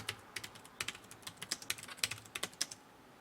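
A computer keyboard clatters with bursts of quick, light key clicks while someone types a document in a word processor. The sound is near but soft, with irregular rhythm and brief pauses, and no voices.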